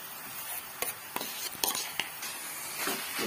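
A spoon stirring mashed potato and peas chaat mixture in a bowl, several soft scraping strokes and light taps over a faint steady background hiss, close and quiet.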